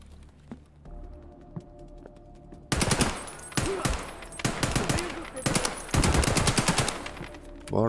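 Automatic gunfire in Escape From Tarkov on the Customs map, quiet at first and then loud, rapid bursts of shots in several rapid strings separated by short pauses.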